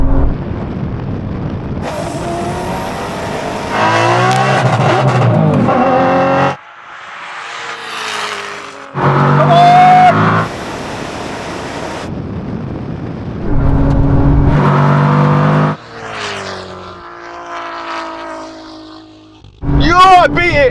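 Koenigsegg, 1000hp Audi TT and Porsche 911 Turbo S drag racing, heard as loud bursts of engine roar and passing car noise broken by gaps, with people shouting and talking throughout.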